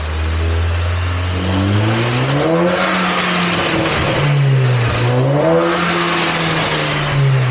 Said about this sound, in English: We have now got spinning wheels again and they gain speed.